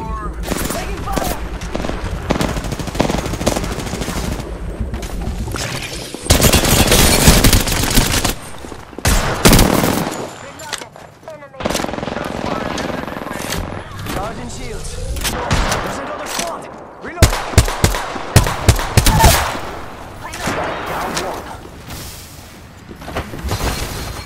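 Bursts of automatic gunfire and weapon effects from the battle royale game Apex Legends, loud and dense in several stretches with quieter gaps, under radio chatter and player voices.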